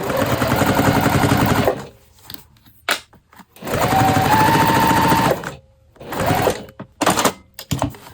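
A sewing machine stitches a seam on a laptop bag panel in two long close, loud runs of fast mechanical whirring, with short stops, clunks and handling sounds between them and a shorter burst near the end.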